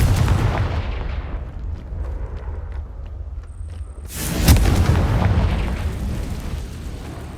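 A Confringo blasting spell detonates in Hogwarts Legacy, a loud booming explosion with a sharp burst at mid-clip over a rumbling low tail and earlier softer blasts, no speech.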